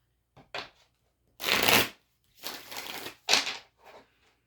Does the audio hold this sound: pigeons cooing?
no